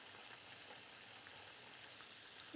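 A sea bream fillet sizzles steadily as it pan-fries as a poêlé, a soft continuous crackle with faint pops, quiet and close throughout.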